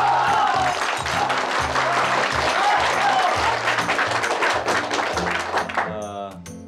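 An audience at a company event claps steadily and thickly for several seconds with low thumps underneath. The clapping fades and a voice is heard at the end.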